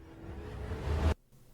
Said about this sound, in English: Reverse impact.